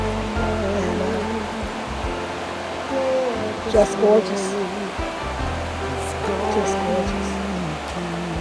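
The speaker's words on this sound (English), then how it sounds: "And you hear the river rushing." A river rushes in a steady broadband roar close by throughout, while someone talks over it in a calm, admiring tone.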